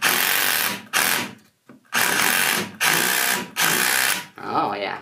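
Makita HDR171 18-volt brushless SDS-plus hammer drill boring into concrete in loud, close bursts of about a second each, with short pauses between them and a final shorter run.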